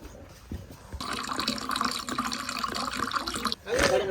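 A steady stream of water pours for a few seconds, a broad rushing wash that stops abruptly, followed by a brief burst of talk.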